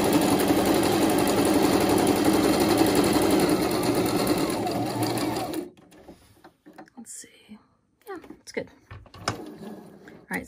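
A sewing machine runs a continuous zigzag stitch across a paper card, a loud, steady mechanical whir that stops abruptly, leaving faint handling noises and quiet talk.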